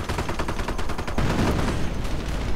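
A heavy artillery barrage in a World War II strategy game lands on a mortar position, a dense rapid string of booming blasts and crackling gunfire, loud and continuous with a heavier rumble midway.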